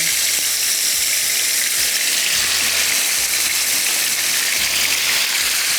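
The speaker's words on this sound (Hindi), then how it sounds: "तो ऑलिव ऑयल के अंदर फ्राई कर रहे हैं।" Food fries in hot olive oil with a steady, close, broadband sizzle and hiss that holds evenly throughout, with no voices.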